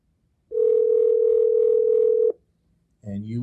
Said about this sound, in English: Phone went off hook, was on the speakerphone